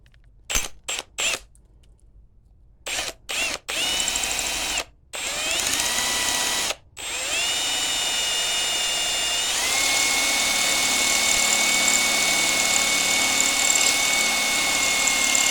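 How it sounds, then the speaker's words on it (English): A power drill bores a hole in an OM606 diesel engine part while the intake cam is being pinned. Several short on-off bursts give way to a steady, high whirring run of about eight seconds, close to the microphone, with no talking. "Let's drill this next hole."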